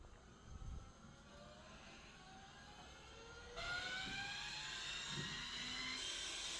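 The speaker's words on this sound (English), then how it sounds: "I'm going to spin this up to a few thousand RPM" A heavy flywheel spins up to a few thousand RPM. Its steady whine climbs in pitch and gets louder partway through, then holds as a sustained, near, high-pitched hum.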